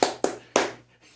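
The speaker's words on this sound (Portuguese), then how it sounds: "Uma salva de palmas, pastor." Three sharp hand claps in quick succession, close and loud, each ringing out briefly before the next, with no one speaking.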